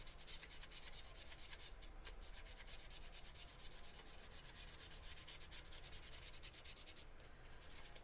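A Blythe doll is sanded with 600 grit sandpaper to strip its makeup, giving faint, close, rhythmic back-and-forth rubbing strokes that continue steadily throughout.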